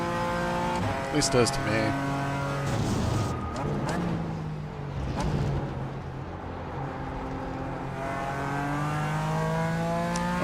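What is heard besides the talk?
GT4 race car engine in a sim racing video game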